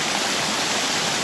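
A waterfall pours down into a small stream, giving a steady, dense rushing roar that stays close and even throughout, with no voices.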